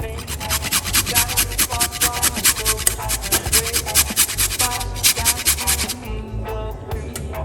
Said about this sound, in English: I need to grate it